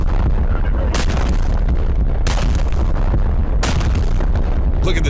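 The Schwerer Gustav railway gun fires in War Thunder: three huge, roaring booms spaced about a second apart over a dense, rumbling battle din.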